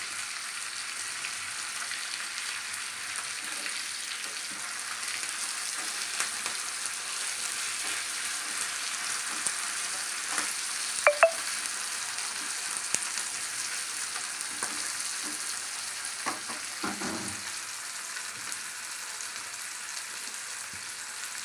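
Onions and curry leaves fry in a pan for a Telangana-style pachi pulusu, giving a steady, close sizzle with a few scattered clicks and scrapes of stirring and no talk.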